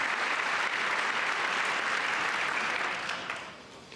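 An audience at a Trump speech bursts into dense, sustained applause that holds steady for several seconds, then begins to thin and fade toward the end.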